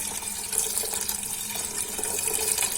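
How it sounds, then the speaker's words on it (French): Cold water pours steadily into a pot of split peas, a continuous splashing gush that stays loud and even from start to finish, with no talking. "Maintenant, je vais mettre de l'eau. Je vais couvrir. C'est de l'eau froide."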